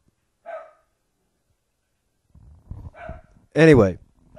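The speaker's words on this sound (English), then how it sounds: "that was my dog in the background" A pet dog gives a brief yip early on and a louder bark near the end, each short burst separated by silence, with a voice talking in between.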